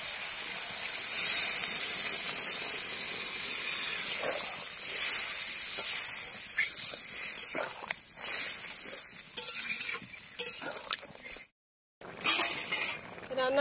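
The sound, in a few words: adding water to sizzling snail and eggplant curry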